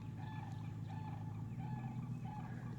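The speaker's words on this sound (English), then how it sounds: "Those are sandhill cranes." Sandhill cranes give rolling, trumpeting calls that repeat at a steady pace over a constant low rumble, sounding moderately distant, at a lake in Gold Head Branch State Park, Florida.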